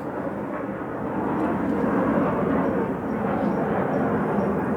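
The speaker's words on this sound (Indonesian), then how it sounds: "kok tumben ada pesawat melintas di Parung" An airplane passing overhead in Parung, a broad steady roar that holds evenly from start to finish with no talking.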